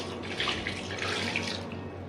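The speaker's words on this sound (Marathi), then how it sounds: "या भांड्यात मी पाणी टाकून घेते." Water running steadily into a metal cooking vessel in a home kitchen, a continuous splashing pour with bright tap-like hiss, heard up close and alone for about two seconds.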